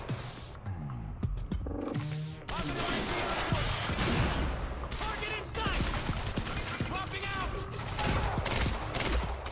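Rapid gunfire bursts in the video game Quantum Break, set in an industrial area: dense, loud volleys crackle almost nonstop with a few impacts and crashes, and a voice talks over the shooting.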